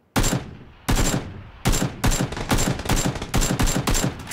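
AK rifle shots in a video game, fired in about ten loud, close bursts separated by short gaps, each a sharp crack with a brief ringing tail, no talking.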